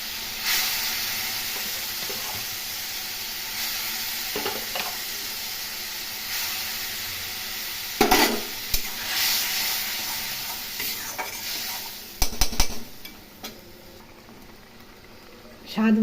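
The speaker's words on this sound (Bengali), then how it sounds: "মশলাগুলো খুব ভালো করে কষিয়ে নিয়েছি।" Turmeric, Kashmiri chili powder and ginger-onion-chili paste sizzle in a pan for a Bengali soybean curry, a steady close frying hiss broken by a few stirring scrapes and clatters, with brief speech near the end.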